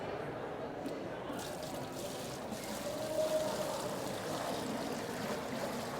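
Stock poured from a container back into an empty cooking pot, a steady liquid splashing and gurgling stream that swells slightly midway, with faint room noise around it.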